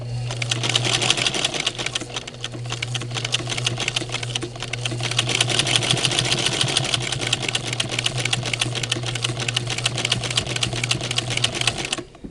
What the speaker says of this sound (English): Now I'm using a pipe cleaner folded in half, and so it's really a thick thing for the presser foot to go over.